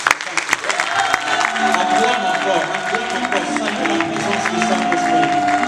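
A church congregation at a worship service cheers and applauds the Lord, with sustained clapping and a crowd roaring together loudly throughout.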